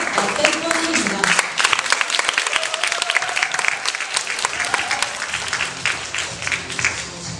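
Applause welcoming a student team that won a school presentation contest, dense clapping filling the room, with a voice and some crowd murmur heard over it partway through.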